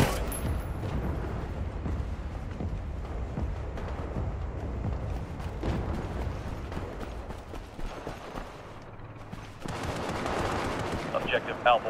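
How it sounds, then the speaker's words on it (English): Heavy military gunfire and artillery-like blasts rumble through a dense battle soundscape, with overlapping booms and rattling shots continuing nearly throughout and a brief lull before the firing resumes loudly. "Be advised, our artillery is commencing fire."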